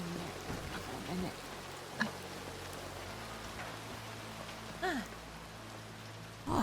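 Steady rain falls in the RedM game world, a dense even hiss of drops on surfaces, with a few faint brief sounds poking through.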